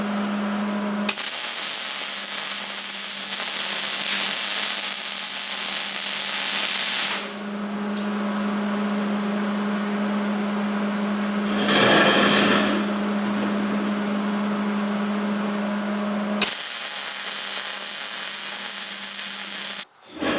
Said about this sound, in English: I'm going to put a little bit of a weld right on each one of those corners